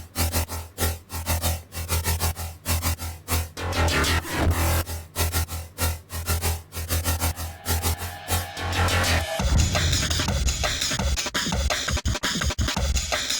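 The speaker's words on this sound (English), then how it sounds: "And so now there's a bit more movement in the bass line and it sounds like this." Dense electronic beat made from white noise, with a moving bass line and added sub bass under gritty, noisy layers and steady pulsing hits, loud and continuous, shifting texture partway through, without any talking.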